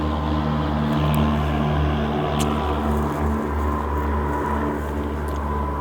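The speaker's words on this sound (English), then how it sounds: "Got another plane going over me." Propeller airplane flying overhead outdoors, a loud, steady droning hum with a constant low engine tone that holds throughout, heard alone.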